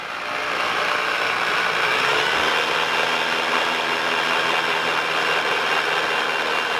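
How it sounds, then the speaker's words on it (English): A steady, loud whirring corded Ryobi drill on 110 volts drills a 7/32 hole continuously throughout, a dense broadband motor drone with no pauses and no voices. "Ryobi drill. Corded drill plugged out to 110 volts."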